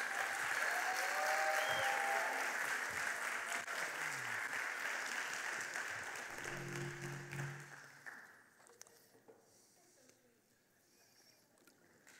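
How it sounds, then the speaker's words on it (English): A church family-ministry audience gives a round of applause, a broad wash of clapping that is strong at first and then thins out and fades over the last few seconds. "Give them a round of applause."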